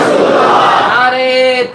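Crowd answers a religious slogan at a preacher's gathering with a loud, massed shout that rises, holds and then settles into a sustained collective chant, alone and close.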